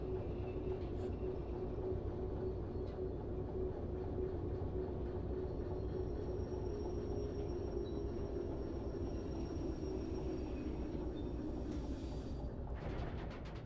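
Locomotive rolling on rails in the train simulation game Derail Valley: a steady, dense rumble of wheels and running gear holds throughout, with faint metallic tones above it and a brief clatter near the end.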